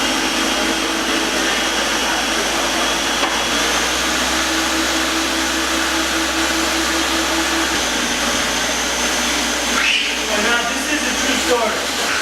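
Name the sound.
blender blending sofrito vegetables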